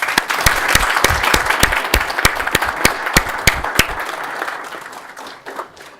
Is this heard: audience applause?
yes